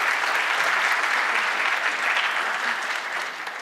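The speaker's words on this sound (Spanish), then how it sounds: "Se les puede dar un aplauso si quieren." An audience applauds at a school awards ceremony, a dense, continuous burst of clapping from many hands that holds steady throughout and eases off slightly at the end.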